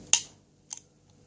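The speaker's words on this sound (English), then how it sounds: "So that sound I could hear was that clicking in and out." A vintage padlock's slide-bar mechanism gives three sharp, close metallic clicks, spaced unevenly, in near silence.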